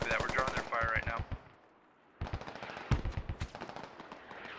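Bursts of automatic gunfire from a Squad video game firefight, with a loud rapid string of shots, a brief lull, then scattered nearer and farther shots and short bursts, a voice briefly talking over the early volley.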